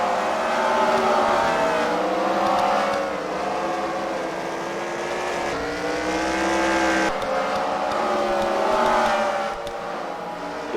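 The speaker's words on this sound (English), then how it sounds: "See that the Intimidator's record car tearing through lap traffic right now." A race car roars through lap traffic during a first-round heat race at a Freedom Factory fight night, its engine note rising and falling in long sweeping revs that stay loud and continuous throughout.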